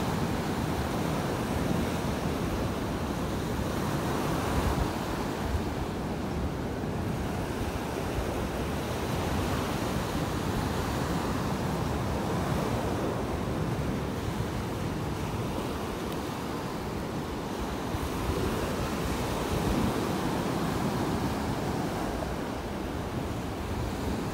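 Ocean waves roll onto a beach in North Naples, Florida, making a steady, loud wash of surf with wind buffeting the microphone and no voices.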